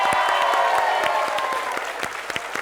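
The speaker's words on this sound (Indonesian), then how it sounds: "Kita kasih tepuk tangan buat semua kelompok." An audience claps loudly for all the competing groups at a televised game show, the dense applause with a few cheers fading slightly toward the end.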